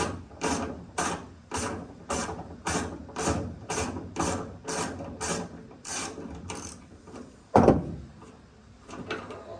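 A ratchet with a 13mm socket backs out a tailgate bolt on a 1999–2006 Chevrolet Silverado/GMC Sierra pickup, giving a steady run of about a dozen sharp, close clicking bursts, then one louder clack near the end.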